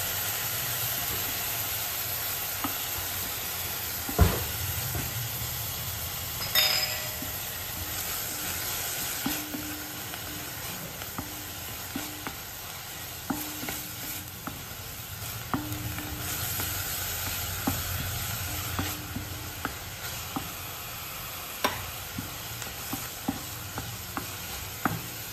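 Egg bhurji sautéing in a pan gives a quiet continuous sizzle with a soft hiss, broken by intermittent scraping taps of a spatula stirring the scrambled eggs, close but fairly faint.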